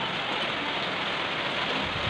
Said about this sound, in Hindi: सुबह से बारिश हो रहा है आज और ज़्यादा बारिश आ रहा है